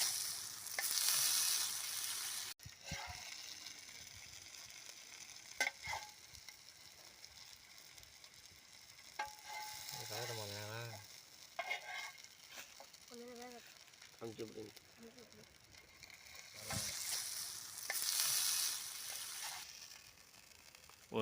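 Fish frying over a high fire with steady sizzling and the scrape of a turning utensil, the spitting loudest at the start and end, with scattered voices talking in between.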